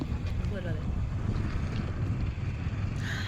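Cold wind buffets the microphone in low rumbling gusts that last throughout, with a faint voice in the background.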